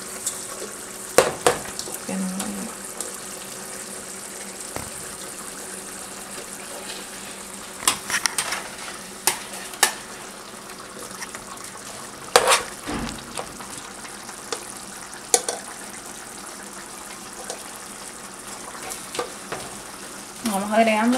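Rice is stirred into shrimp frying in a pan for Costa Rican-style arroz con camarones, giving a soft steady sizzle broken by scraping clanks of the utensil and occasional louder knocks, close by.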